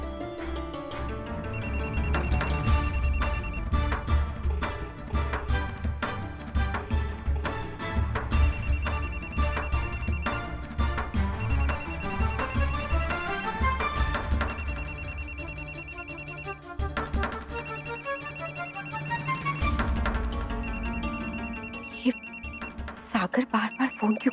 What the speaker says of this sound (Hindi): बार बार फोन क्यों कर रहा है?